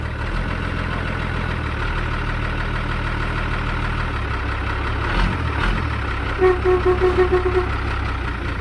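A vehicle engine, stuck in mud, drones steadily and heavily, with a brief surge in revving midway and a faint rhythmic knocking near the end.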